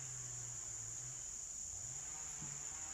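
A steady, high-pitched drone of many crickets or cicadas chirping together, continuous and fairly faint, with low background rumble underneath.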